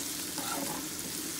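Onions with a little salt fry in a pan, a continuous soft sizzle and hiss, close and steady throughout the brief moment, with no talking.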